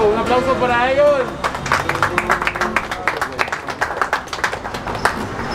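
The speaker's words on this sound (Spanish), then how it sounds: "Un aplauso para ellos." Crowd applause at a 2021 autograph signing: a raised voice opens, then a burst of irregular, moderately loud claps continues steadily to the end, with some chatter mixed in.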